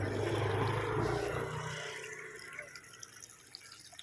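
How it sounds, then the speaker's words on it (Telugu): Drainage water flows into a lake in Palvancha, a steady rushing wash that fades a little and leaves scattered drips and splashes near the end. "పాల్వంచలోని రాతి చెరువులోకి నీరు ప్రవహిస్తున్న పరిస్థితిని మనం సరిగమనించవచ్చు"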